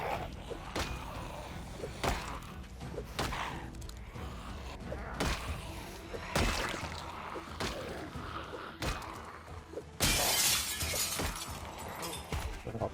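Glass shattering in the zombie survival game Project Zomboid, a loud burst of breaking glass near the end, set among scattered knocks, thuds and clatter of in-game action.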